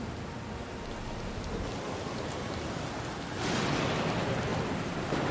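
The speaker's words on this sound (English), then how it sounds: "Meanwhile, the storm has nearly driven you ashore." A storm at sea in Pillars of Eternity II: Deadfire: dense, steady rain roars without a break, swelling louder partway through with a deep rumble of thunder underneath, with no voices.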